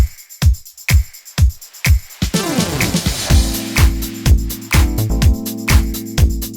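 An electronic music transition: rhythmic kicks give way to a white-noise swell and a rapid drum fill with a crash, then the next section lands with a heavy, pulsing bass groove and steady beat.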